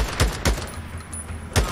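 Three sharp sniper rifle shots ring out in the Days Gone video game, loud and close, each with a short decaying tail, spaced unevenly across a brief stretch.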